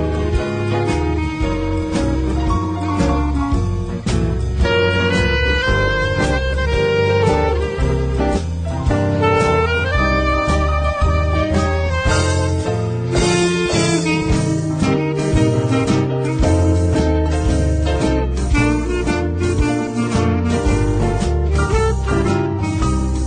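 A jazz band plays continuously at full volume, a dense ensemble of melodic instruments over a steady rhythmic low end, with no talking.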